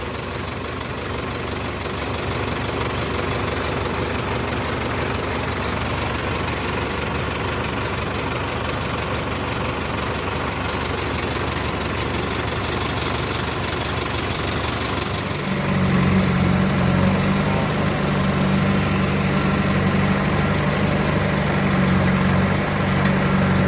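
A tractor engine idles with a steady low rumble close by while a JCB loads soil at a roadwork site, the drone deepening and growing louder partway through as the engine takes on load.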